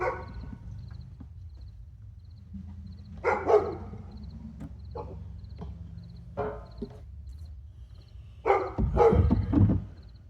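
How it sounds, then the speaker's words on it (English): A dog barks near a 1960 Jacobsen push mower in a workshop, sounding a few sharp barks spread across the clip, louder near the end, over a steady low hum. "Dog over there being annoying."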